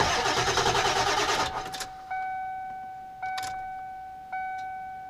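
A car engine cranks briefly and labours to fire on a slow morning start, then cuts off, followed by three evenly spaced electronic warning chimes that ring out clearly in a quiet cabin.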